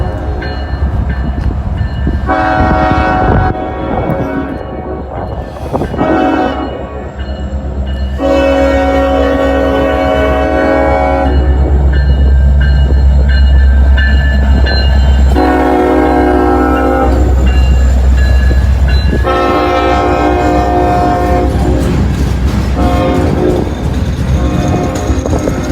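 Freight train passing close by, its horn blowing several long loud blasts over the heavy rumble and rattle of the cars, with a steady roar continuing between blasts.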